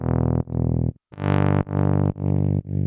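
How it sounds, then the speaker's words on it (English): A gritty, distorted synth bass from an Afro House drop pulses in loud, chopped notes with a short gap, its filter opening to brighten the tone, heard alone without voices. "As you can hear, this is a really gritty bass."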